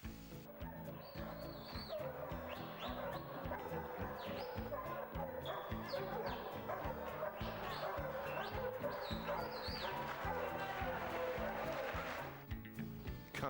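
A New Zealand sheepdog barks repeatedly while herding sheep, short sharp yips scattered throughout over a steady, continuous background of tones.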